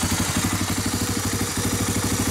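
A 1985 Honda ATC250ES three-wheeler engine idling close by after a mixture adjustment, with a steady, fast chugging pulse and a slight stumble partway through, no voices.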